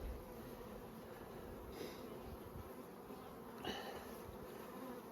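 Honey bees hum in a dense, steady drone around an open brood box during spring hive work, close and continuous, with a couple of brief louder buzzes as single bees pass near.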